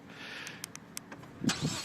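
A 2015 Ford Fusion Titanium starts remotely, with faint clicks and short mechanical whirs followed by the engine catching with a low burst near the end.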